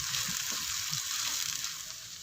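Chopped onion and green garlic frying in a pan for sarson ka saag, a steady, close, hissing sizzle with faint soft stirring bumps underneath.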